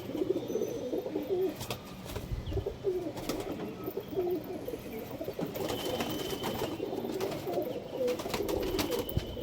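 Desi highflyer pigeons coo steadily in a flock, soft low throaty calls overlapping continuously at moderate distance, with occasional chirps and faint wing flutters.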